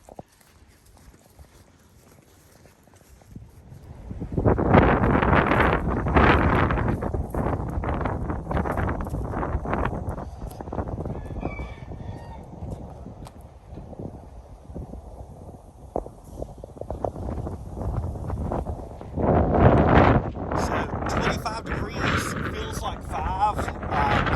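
Gusty wind buffets the microphone in loud, rough surges that rise and fall, with brief rustling and crunching mixed in.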